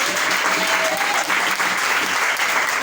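Church congregation applauding during a worship service, a dense, continuous clapping that stays loud and even throughout, without speech.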